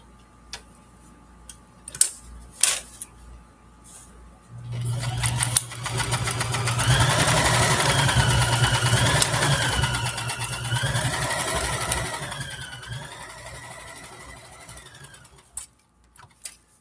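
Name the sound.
sewing machine stay stitching scrubs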